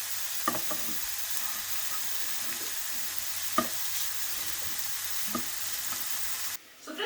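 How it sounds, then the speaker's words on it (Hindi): Onions and fenugreek leaves sauté in a pan with a steady, fairly quiet sizzle, broken by a few soft stirring scrapes and taps, before the sizzle cuts out near the end. "By the time हमारे अनियंस जो है वो सौते होके लाइट ब्राउन टर्न कर रहे हैं"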